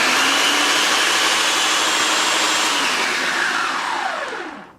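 A blender whirs steadily as it purees homemade honey brown mustard, loud and continuous, the motor pitch sagging slightly before it winds down and stops.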